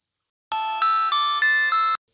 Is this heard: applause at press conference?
no